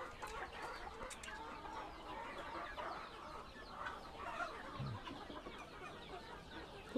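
Free-range village chickens cluck in scattered, overlapping bursts, fairly faint and spread across the yard, with one brief louder call near the end.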